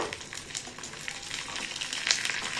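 Curry leaves crackle and sizzle in hot oil for a chutney tempering with the stove already off, a steady dense frying hiss with small pops throughout, fairly close, and no voices.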